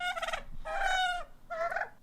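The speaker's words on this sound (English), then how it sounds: "What do you think these turkeys are talking about?" Turkeys gobble in three loud, rapid warbling bursts, close and clear, with short pauses between them and no talking.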